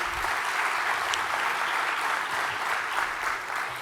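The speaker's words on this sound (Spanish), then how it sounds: "Le brindamos un aplauso." A conference audience gives a sustained round of applause, a full, even roar of many hands close by that continues throughout without any speech.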